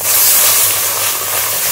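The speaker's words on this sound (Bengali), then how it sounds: "অল্প অল্প জল দিতে থাকবো আর নাড়তে থাকবো।" Water poured onto roasted semolina and flour in a hot wok sizzles in a steady, loud hiss that holds throughout, close and continuous with no talk.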